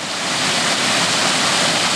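Spring water at Neromana near Ano Kastritsi, Patras, pours down from high on the mountain, producing a loud, unbroken, close rushing roar with no pauses.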